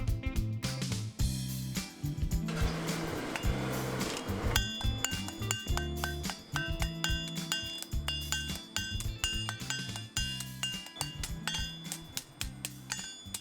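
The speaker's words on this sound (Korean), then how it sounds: "탕탕탕탕 쇠망치 소리가 울려" Rapid, steady metallic hammer blows ring out in a traditional blacksmith's forge in Goryeong, South Korea, over busy background noise, with clinks and clangs repeating in a brisk rhythm throughout.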